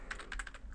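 Typing on a computer keyboard while entering Java code, a quick run of about eight light, close key clicks in an irregular rhythm, heard alone and softly.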